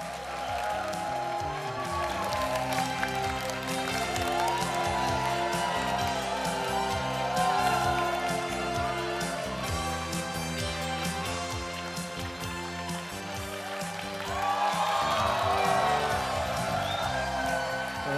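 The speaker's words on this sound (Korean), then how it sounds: "큰 박수로 함께 하겠습니다" An audience at a corporate anniversary vision ceremony for CMB applauds and cheers amid loud background music, the clapping and whoops partly buried under the steady musical bed.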